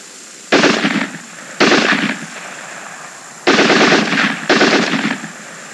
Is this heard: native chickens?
no